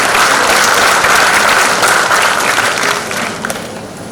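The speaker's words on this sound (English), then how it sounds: "With a big round of applause, ladies and gentlemen" Sustained applause from the audience at the inaugural session of an AI conference in Kakinada, a dense wash of many hands clapping that holds steady, then thins slightly toward the end.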